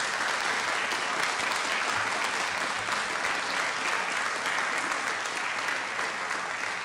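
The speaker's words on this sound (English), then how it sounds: "let's give them a big round of applause" Continuous, fairly distant applause fills a city council meeting chamber as an audience claps for visiting seniors, holding an even level throughout with no voices.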